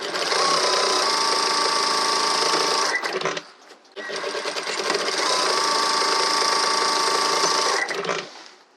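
A sewing machine stitches the shoulder and body panels of a tailored coat in two loud, fast, whirring runs with a brief pause between them, heard up close and alone.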